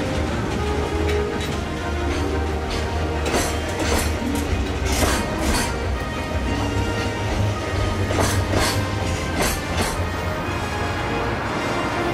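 A freight train runs past on the Hokuso freight line, a loud continuous rumble of wheels with repeated rhythmic clacking as cars pass over rail joints.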